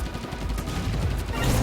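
A powerful long-range weapon fires in the video game Assault Android Cactus, producing a dense, continuous rattle of rapid shots that stays loud and close for the whole stretch.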